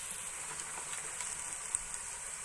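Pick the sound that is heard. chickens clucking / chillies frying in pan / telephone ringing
chillies frying in pan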